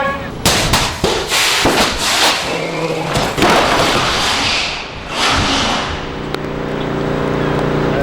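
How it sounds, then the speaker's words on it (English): Outdoor pyrotechnic explosions on a movie set fire in a rapid burst of loud, sharp blasts with crackling debris, then settle into a lower rumble and a fading mechanical hum. "There were a lot of loud and magnificent explosions"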